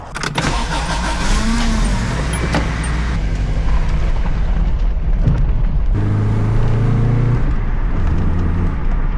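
An old Subaru drives after repairs, its engine and road noise filling the cabin in a loud, continuous hum with shifting revs and no speech.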